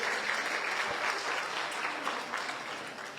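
An audience at a Guadeloupe regional ceremony honouring high-school graduates applauds steadily for one student, a dense, sustained clapping from many hands at moderate loudness with no talk over it.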